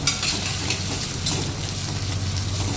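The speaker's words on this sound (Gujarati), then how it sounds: "તેલ મૂકી દીધું ગરમ થવા અને ભીંડા થોડીક વાર ફ્રાય કરી દો." Sliced okra fries in hot oil on a home stove, making a continuous hissing sizzle with faint crackles and occasional stirring sounds, close up and without talk.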